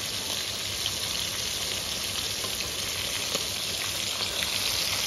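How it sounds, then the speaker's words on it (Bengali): Fish frying in hot oil, a dense, continuous crackling sizzle at steady loudness, close and uninterrupted for several seconds. "এখানটায় চলছে হচ্ছে মাছ ভাজা"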